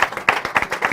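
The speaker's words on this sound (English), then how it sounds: "I'd like to take a moment here to give all our panelists a round of applause." An audience claps for panelists at a weather and climate summit panel discussion, a brief burst of close, dense, uneven handclaps.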